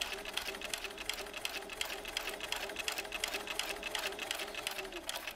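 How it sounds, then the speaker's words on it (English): A sewing machine runs steadily, stitching through a clear vinyl pouch with a continuous fast mechanical whir and rhythmic needle clatter, close and alone with no talk. "stop with your needle down in your work and sew back up the other side."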